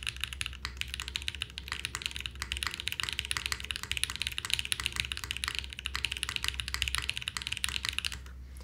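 A KBDFan KBD8X mechanical keyboard being typed on continuously, with dense, rapid clacky keystrokes up close and a faint low hum beneath, lasting several seconds with no speech.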